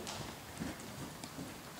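A horse trotting during a riding lesson at a stud farm gives a steady run of clip-clop hoof beats at moderate distance, with no voices over them.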